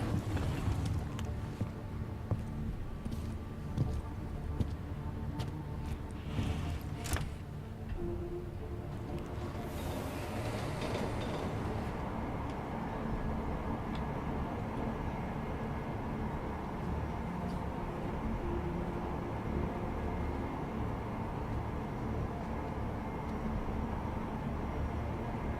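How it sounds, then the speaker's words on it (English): Subway train ride in Deus Ex Mankind Divided, a continuous rumbling rush with scattered clicks and clatter early on, then a steady roaring drone of motion carrying on evenly to the end. "Kind of amazed there's only like one variation of the subway ride"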